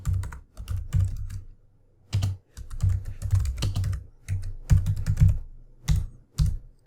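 Typing on a computer keyboard while entering a code comment, bursts of rapid key clicks separated by short pauses, close and clear with no voice.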